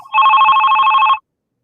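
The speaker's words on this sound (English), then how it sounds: "Oh, we have a phone call." An incoming phone call rings during a live sports podcast: one loud, close electronic trill lasting about a second, then abrupt silence.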